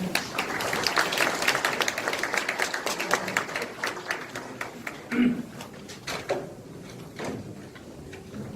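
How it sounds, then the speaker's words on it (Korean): At a Hwaseong citizens' regional meeting, an audience welcomes the mayor with applause that is fairly dense at first, then thins into scattered individual claps and small knocks, with some faint voices. "시장님을 앞으로 큰 박수와 함께 모시겠습니다"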